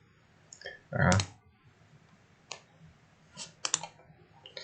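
Mouse clicks while choosing the general 3D option in Blender software: a few sharp, close clicks scattered through a quiet room, with one louder bump near the start.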